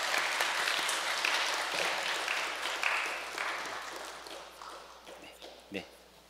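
A crowd at a Korean ceremonial gathering gives a big round of applause, dense at first and gradually tapering off, with voices and a few footstep-like knocks near the end.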